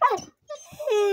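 A young puppy gives a sharp yelp, then after a short pause a rising, drawn-out whining bark that trails into a steady howl-like note, close and fairly loud.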